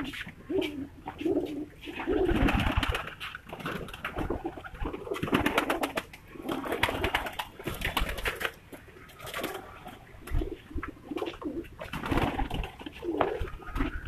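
Pigeons coo softly through a busy mix of rustling and clicking sounds, with low throaty calls recurring throughout amid faint background noise.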